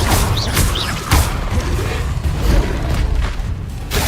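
An Incendio fire spell cast in the video game Hogwarts Legacy gives a sustained, loud roar of game effects, broken by several sharp crashing hits and whooshes in quick succession.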